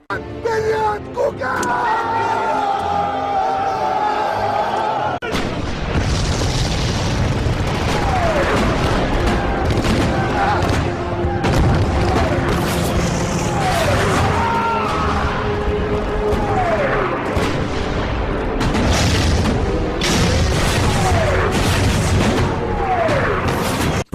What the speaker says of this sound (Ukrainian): такі грандіозні зйомки батальних сцен з піротехнічними вибухами, багатотисячною масовкою у військовому спорядженні